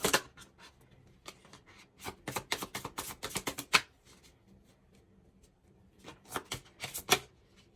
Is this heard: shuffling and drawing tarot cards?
yes